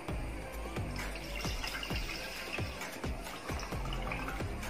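Milk pours into a bowl for a biscuit fruit pudding, giving a steady close liquid splash with small repeated drips and gurgles, and no talk.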